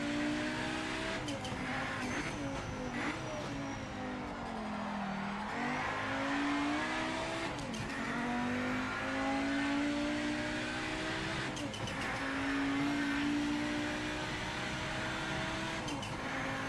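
A race car engine in the Project Motor Racing video game revs steadily, rising and falling through gear changes as it is eased round corners, loud and continuous throughout.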